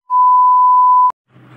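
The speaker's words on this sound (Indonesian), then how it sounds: "Jadi kalau kita di wilayah ini 200 meter keluar itu dia langsung alarm." A trekking tracking watch, worn during a quarantine stay in Abu Dhabi, sounds a single loud, steady electronic alarm tone for about a second. It cuts off sharply and is followed by faint low background noise.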